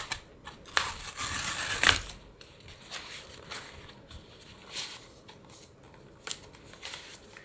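Unboxing a Kindle Paperwhite Signature Edition in Metallic Jade, with close, quiet cardboard and plastic rustling, scraping and tearing in short bursts and a louder rip near the start.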